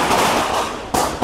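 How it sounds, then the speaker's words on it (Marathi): Diwali firecrackers burst outdoors, a loud dense crackling barrage filling the moment with a sharp fresh burst near the end. "आता सगळे लोक फुल मोठ्याने फटाके वगैरे फोडायला लागलेले"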